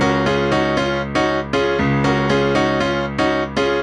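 Three voices sing in close harmony while the bottom voice drones on the root of the chord. The voices come in as a series of strong, evenly spaced sustained chords, loud and close, with no talking.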